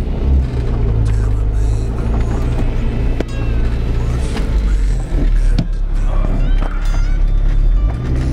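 A Yugo car driving, its engine giving a loud, steady low rumble with road noise throughout.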